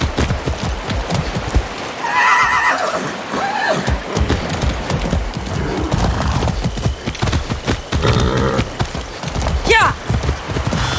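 A horse whinnies and hooves clip-clop in the Far Cry 6 game soundscape, with voices talking over the sounds throughout.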